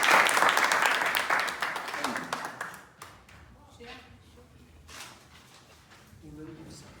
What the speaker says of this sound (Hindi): एक बार इनके लिए तालियां।